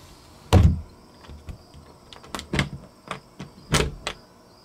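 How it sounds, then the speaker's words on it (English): An RV bathroom pocket door slides shut with a loud thump near the start, then a latch catches and a series of sharp clicks, knocks and rattles follow from the locking mechanism, close by with no talking. "Okay, just close the door."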